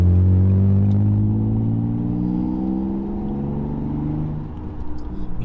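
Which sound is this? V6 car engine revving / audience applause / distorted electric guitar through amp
V6 car engine revving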